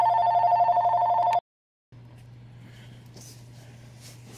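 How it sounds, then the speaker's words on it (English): Indoor telephone ringing, one steady electronic ring burst that cuts off, followed by quiet room tone. "We're going to pause while I get the phone."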